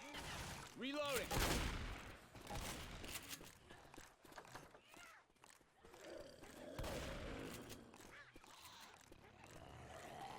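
Gunfire and impacts during a competitive Hunt: Showdown match, a loud burst early then scattered shots and footsteps, with players' voices and commentary running through much of it.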